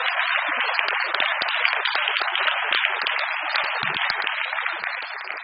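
Audience at a university MSc graduation ceremony giving a round of applause in a large hall, dense steady clapping sustained throughout at an even level, no voices over it.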